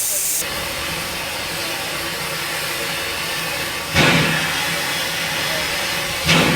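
A steam locomotive from a Tahoe and Glenbrook double header hisses continuously and loudly at the throttle, a broad roaring rush of steam that swells in two short bursts near the end.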